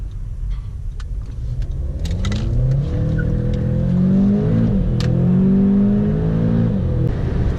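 An Audi A1 1.4 TFSI tuned to 185 hp accelerating hard toward top speed, with a loud steady engine drone climbing through gears, heard from inside the car, with wind and road noise.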